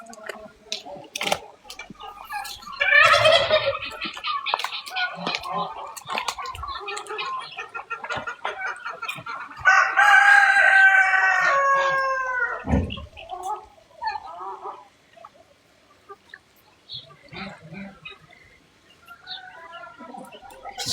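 Roosters crowing with bursts of clucking in a village yard, two loud crow calls standing out amid scattered fowl noises and fainter background sounds.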